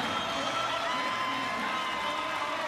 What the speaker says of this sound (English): The crowd loves it here in Nampa.